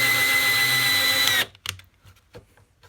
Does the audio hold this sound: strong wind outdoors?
no